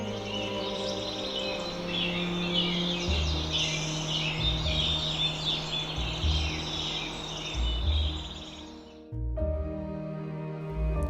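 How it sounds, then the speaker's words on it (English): A spring dawn chorus of many birds twitters and chirps continuously in a dense, overlapping wash, with low background rumble beneath it. "What you hear now is some I recorded last spring."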